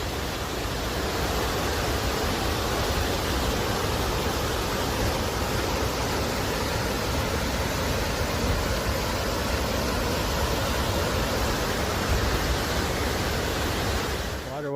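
Steady, full-bodied roar of the rushing Kings River on the Pacific Crest Trail near Muir Pass, dense and unbroken throughout, close and loud with no voices.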